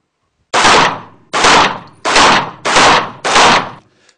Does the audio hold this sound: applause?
no